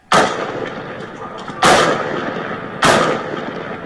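Three loud, sharp gunshots from a police officer's gun, each followed by a lingering echoing tail, spaced roughly 1.3 seconds apart.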